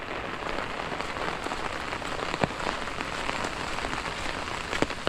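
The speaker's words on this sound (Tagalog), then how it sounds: "biglang buhos eh malakas po malakas yung ulan" Heavy rain pours down steadily in a dense, hissing wash, with occasional louder drops spattering nearby and no voices.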